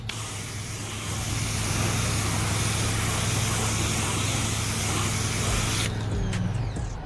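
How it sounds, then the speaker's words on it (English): Plain water sprayed from a hose spray nozzle onto a ceramic-coated car surface, a loud steady hiss for about five seconds that then cuts off, close by with no talk. "I'm gonna spray this with my spray nozzle"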